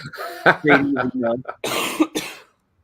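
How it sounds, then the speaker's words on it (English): Several harsh coughs in quick succession, close and loud, with a short pause before a final burst. "Sorry about the coughs, guys."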